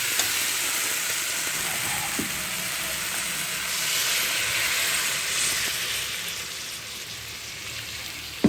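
Steady, loud sizzle and crackle from a pan of fried potato and ridge gourd as water hits the hot oil, a continuous hiss holding for several seconds with a few small pops.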